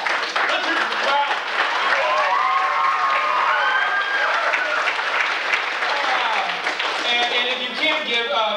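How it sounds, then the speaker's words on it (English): A large crowd applauds and cheers steadily, loud and sustained, with whistles and shouts rising out of the clapping. "Let's hear the crowd."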